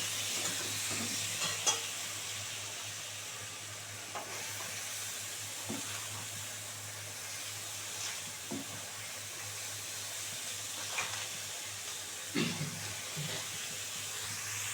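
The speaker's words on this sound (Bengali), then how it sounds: "সমস্ত কিছু মশলা কষানো হয়ে গেছে এবারে এর মধ্যে বাঁধাকপিটা দিয়ে দিচ্ছি" Shredded cabbage hits a pan of fried spices for a Bengali fish-head and cabbage dish, giving a soft, steady sizzle with occasional stirring and clinks, fairly quiet throughout.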